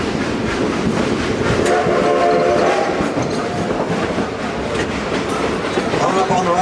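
The Dollywood theme-park train rolls along with loud, steady clickety-clack and a sustained horn blast partway through. A guide's voice sounds faintly under the running noise.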